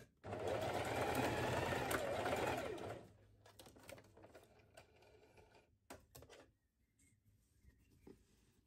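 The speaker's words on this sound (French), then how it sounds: "Donc on a cousu tout le long et on va faire la même chose de l'autre côté, toujours à 1 cm du bord." A sewing machine runs for about three seconds stitching the seam of a reversible tote bag, close and steady, then stops, leaving faint handling clicks and rustles in a quiet room.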